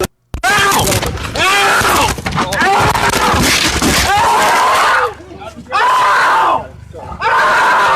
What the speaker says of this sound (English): Did you hear the crunch again, and then his screams get louder?